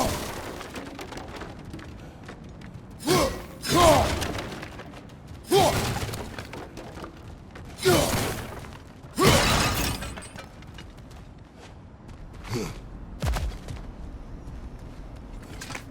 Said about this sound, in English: back to smashing through things for fun and profit